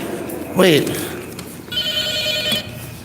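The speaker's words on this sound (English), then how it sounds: "This phone is ringing." A telephone rings in short trilling bursts, with voices speaking around it.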